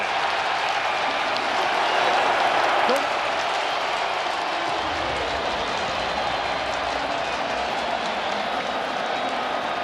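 Roaring stadium crowd at a UFL football game between the Arlington Renegades and St. Louis Battlehawks, a continuous loud wash of noise with no clear breaks.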